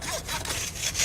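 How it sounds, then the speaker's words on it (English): A bone from a wolf-killed bison is sawn apart to check the marrow, making steady, rasping back-and-forth strokes that are loud and close, with no talk. "By sawing apart one of its bones, they can examine the condition of the marrow."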